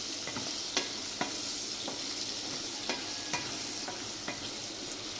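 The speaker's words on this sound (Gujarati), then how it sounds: "હવે આ ડુંગળીને સરસ મજાની સતળવા દેવાની છે।" Onions sautéing in a covered-then-stirred pan for a Punjabi-style gravy, with a constant loud sizzle under a regular series of distinct spatula scrapes roughly every half second to second, close and uninterrupted by speech.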